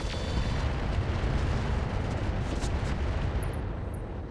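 Heavy weapon fire in RogueTech, autocannon rounds pounding an Orion mech, forms a dense, continuous rumbling barrage of blasts and impacts, loud and unbroken throughout.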